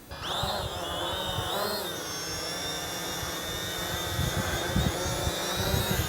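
A Holy Stone HS110G GPS drone takes off and hovers outdoors on a windy day, its rotors giving a steady, high whining buzz that rises in pitch at liftoff, heard close by with gusty wind rumbling underneath.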